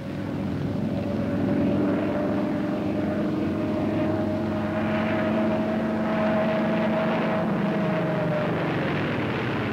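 Propeller airplane maneuvering at altitude during a slow roll drones steadily with a constant hum and buzzing overtones, moderately loud and continuous throughout with no voices.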